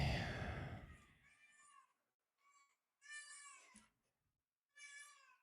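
A cat meow from a donation alert sounds in a few short, high, tonal bursts with gaps of silence, after an opening rush of louder broadband noise, all fairly faint.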